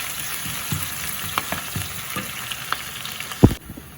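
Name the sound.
onions with curry leaves and green chilies sautéing in pan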